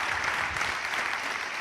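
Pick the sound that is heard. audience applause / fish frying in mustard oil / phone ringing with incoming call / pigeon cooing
audience applause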